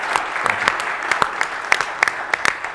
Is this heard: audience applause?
yes